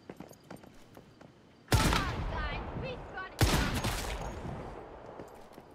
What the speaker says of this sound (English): I'm hearing a lot of bang-bang going on down there.